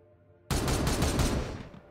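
Gunfire erupts in the Warhammer 40,000: Regicide video game as a sudden dense burst of rapid automatic shots, loud and sustained for over a second before trailing off.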